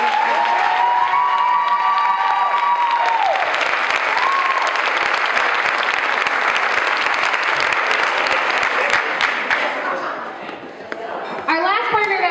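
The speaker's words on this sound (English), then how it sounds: "So let's give them another round of applause." A crowd at the 2014 Fitness Challenge finale gives a long round of applause for the fitness partners, with sustained, dense clapping and some cheering. Voices and tones come through at the start, and the clapping tapers off near the end.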